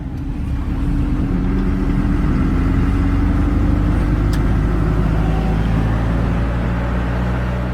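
A car circling slowly in search of parking in Bukittinggi, its engine rumbling steadily up close with a continuous low drone and a brief high click midway.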